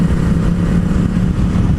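Many motorcycles riding on the road together, a dense, loud, continuous rumble of engines close by with no talk.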